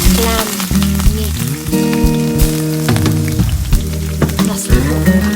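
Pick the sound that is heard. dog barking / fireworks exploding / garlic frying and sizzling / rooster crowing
garlic frying and sizzling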